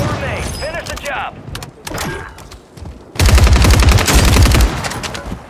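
Gunfire in Call of Duty Warzone, a few isolated shots and mechanical clicks followed by a loud, sustained burst of rapid automatic fire, with voices heard in the mix.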